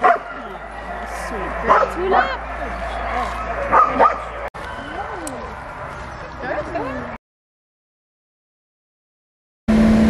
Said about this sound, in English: Looking at the husky.